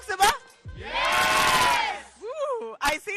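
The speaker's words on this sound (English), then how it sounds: "Woo, I see that cheer." Election-rally crowd of voters in Karnataka erupting into a loud, sustained cheer of massed whoops and shouts for about a second and a half, bracketed by brief excited calls and a voice speaking.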